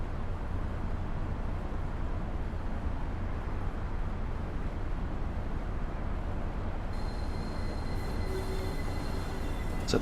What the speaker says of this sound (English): So the brakes are now on lightly just to start bringing the speed down.